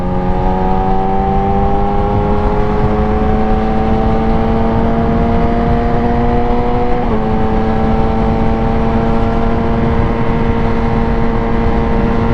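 A Honda Wave motorcycle rides and overtakes on a road, its steady engine drone sustained close by with a brief pitch dip partway through, and no talking.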